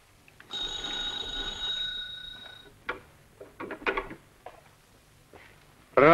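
A telephone rings with a sustained metallic bell tone lasting about two seconds, followed by several sharp clicks and handling knocks, then a brief loud burst at the end; no one speaks.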